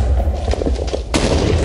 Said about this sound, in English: when you set up your cannon, charging, charging, and fire!